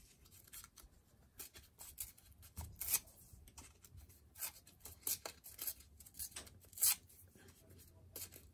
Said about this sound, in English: So I'm just gonna tear this off.